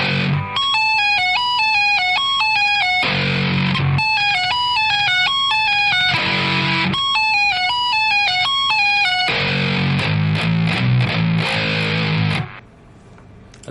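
Heavy, distorted electric guitar riff played slowly, with low chugging palm-muted notes alternating with bright, dissonant tapped patterns high on the neck, loud and continuous before ending abruptly.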